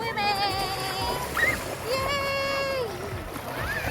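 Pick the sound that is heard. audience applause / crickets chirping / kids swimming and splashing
kids swimming and splashing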